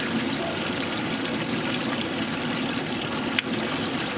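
Pond water bubbles and trickles steadily from a small garden pond's filter or aerator, a constant close wash of sound with one brief knock near the end.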